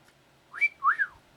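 A person whistles a short two-note tune, one rising note and then a swooping second one, close and clear against a quiet room, near a 1922 Singer 99K hand-crank sewing machine.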